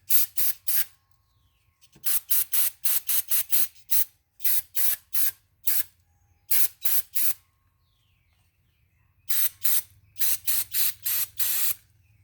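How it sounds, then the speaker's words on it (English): Short bursts of carburetor cleaner sprayed onto a faulty carburetor from a Stihl BR 400 backpack blower, hissing in about a dozen quick clustered puffs with brief pauses, close and loud with no talk. "This is just a carb cleaner."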